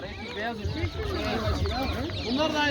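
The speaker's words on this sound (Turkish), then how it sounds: "Bak burada kazlar var." Geese at a poultry market in Çubuk, Ankara, honking and cackling in a dense, close chorus, with people talking underneath.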